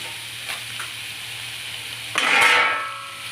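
Grated coconut and dry red chillies fry in a pan for a snake gourd sambar, giving a steady sizzle that swells louder and brighter partway through as more goes into the hot oil, with no talking.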